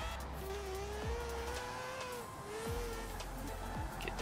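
A rotary-engined Mazda Miata in Forza Horizon revs hard and drops away in repeated sharp shifts, its engine tone rising and falling across several gear changes.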